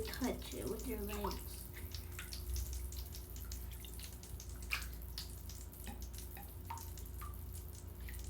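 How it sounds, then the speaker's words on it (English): Mr Bubbles magic bath crystals crackling and popping in bathwater, scattered tiny sharp pops and clicks at close range over a quiet watery background, with a brief voice at the start. "it just crackles and pops"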